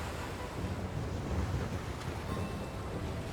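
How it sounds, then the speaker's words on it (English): Rough, rolling sea waves in the Hitman Freelancer video game keep up a continuous, fairly soft broadband wash with gentle swells and wind-like rush, no voices. "Let's just chill out down here for a bit and watch these rolling waves."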